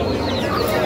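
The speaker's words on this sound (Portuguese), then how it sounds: "Muito bonita as frangas dele, viu?" Young hens in a cage at an animal fair in João Pessoa cluck briefly and close by, a short burst of fowl calls under faint background chatter.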